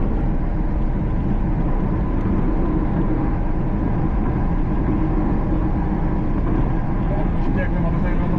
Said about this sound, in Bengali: এই মোটরসাইকেল 100-তে চলতেছে।